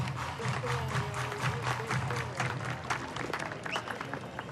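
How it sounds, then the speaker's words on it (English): A spring training baseball crowd clapping along in the stands, a steady rhythmic patter of many hands under a low, continuous crowd murmur, with a voice faintly carrying over the top. "Everybody clap your hands."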